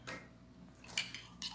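A spoon stirs mug cake batter inside a mug, giving light clinks and scrapes against the ceramic with a sharper tap near the end, close and fairly quiet.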